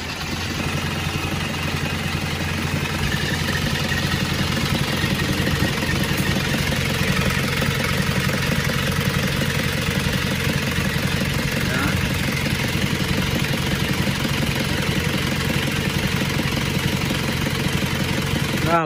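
A rebuilt Isuzu Panther engine with cast cylinder liners idles on a test run in a workshop, giving a steady, even rumble with a regular mechanical beat that holds constant from start to finish.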